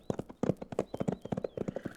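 Pony hooves clip-clopping as a radio drama sound effect, a brisk rapid series of close, crisp hoof knocks in a steady trotting rhythm.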